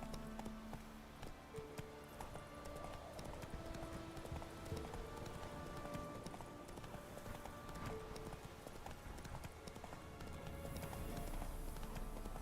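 Roach, the horse in The Witcher 3, gallops in a steady rapid clip-clop of hooves that continues throughout, close and moderately loud, with a brief whinny and background game ambience.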